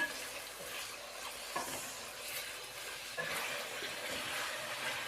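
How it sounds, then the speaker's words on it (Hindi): Steady crackling sizzle of chicken frying in hot oil, with occasional louder pops and stirring scrapes, continuous throughout with no talking. "इस चिकन को हम इस ऑयल के अंदर फ्राई करेंगे।"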